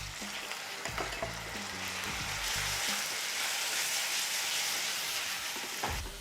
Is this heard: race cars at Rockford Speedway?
no